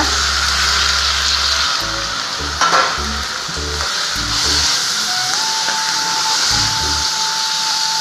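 Chopped chayote, tomato and tamarind sizzling loudly with onions in a pan, with a constant frying hiss and stirring scrapes, while a low rumbling machine hum starts and stops underneath.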